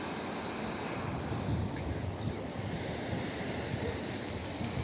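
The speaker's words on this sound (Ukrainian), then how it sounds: "Боже, які волни." Sea waves wash steadily onto the shore at Arcadia beach in Odesa, a continuous broadband rush with wind buffeting the microphone and no talk over it.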